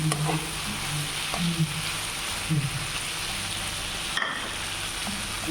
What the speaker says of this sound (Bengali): শুকনা শুকনা করে ভাজি করবো না মানে ঝোল রাখবো না